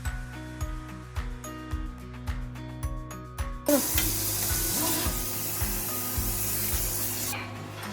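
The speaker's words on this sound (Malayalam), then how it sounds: "ഇനി ഇത് നമുക്ക് ജസ്റ്റ് ബജിയുടെ ബാറ്ററിൽ മുക്കി പൊരിക്കാം" Bajji-batter-coated egg filling deep-frying in hot oil, a loud, steady sizzle that bursts up partway through and continues densely over rhythmic background music.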